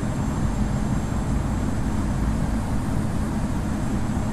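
An Airbus A330 in the Infinite Flight game approaching to land on runway 09L at London Heathrow, giving a steady, even jet engine roar with a faint high whine above it and no voices.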